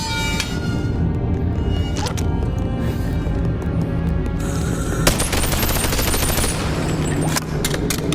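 AK rifle fire in the VR game Bonelab, loud rapid bursts of automatic shots crowding the clip, with a sustained stretch of fire through the second half.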